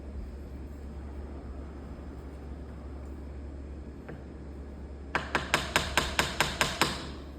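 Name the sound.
chisel struck with a hammer cutting a hinge mortise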